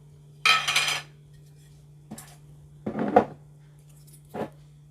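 Spoon clinking against a mustard jar while scooping mustard for chicken wings in a kitchen, several short separate scrapes and taps over a steady low hum, close and fairly clear.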